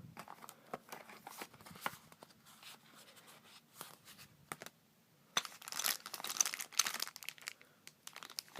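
A plastic bag of board game pieces crinkles and rustles close by in intermittent bursts, louder toward the end.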